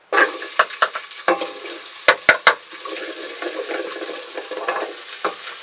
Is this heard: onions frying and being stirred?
yes